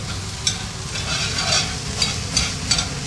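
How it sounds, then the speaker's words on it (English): Food frying in a pan gets stirred, with a steady sizzle underneath and a few sharp scrapes and clinks of the utensil against the pan spaced about half a second apart. "get this a little stir"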